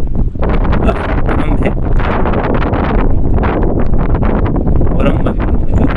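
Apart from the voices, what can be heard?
strong wind on the coast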